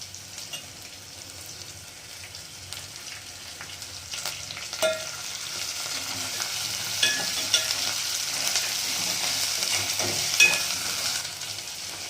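Onions and green chillies fry in a pan with a soft, continuous sizzle. Occasional spoon scrapes and clinks rise over it toward the end, and no one speaks.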